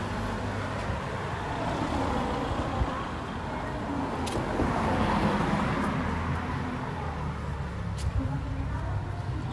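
Steady roadway noise from passing cars and other vehicles on a street beside a school during a morning walk, a continuous moderate rumble with some brief brighter swells, no speech.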